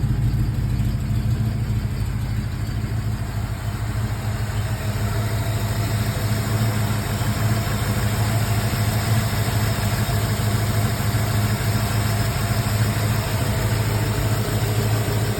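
A 1965 Mustang with a race cam idles steadily with a lumpy, uneven rumble, sounding like a misfire, and constant low vibration, loud and close, with no talking.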